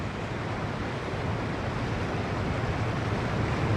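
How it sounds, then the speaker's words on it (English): Flash flood water rushing down a once-dry desert creek bed, a steady broad roar of turbulent water, loud and continuous with no pauses. "Creek beds that have been dry sand for years become raging rivers in minutes."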